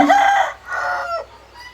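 A rooster crows loudly and close by, one long strained call that breaks off and trails away, with no voices.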